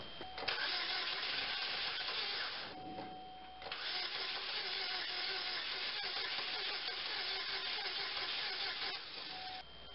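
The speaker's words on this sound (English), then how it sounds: "I hear a little put-put, like maybe it's gonna catch." A 2003 Chevy Cavalier with the 2.2L Ecotec engine cranks repeatedly, a steady whirring starter broken by short pauses, with faint put-put hints of firing as it tries to catch.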